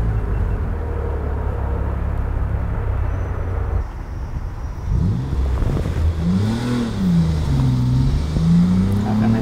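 A BMW M4 launches from a standing start on a track: a steady idle rumble, then a brief lull, then the engine revs hard and climbs through rising, shifting pitch sweeps as the car accelerates, loud and close.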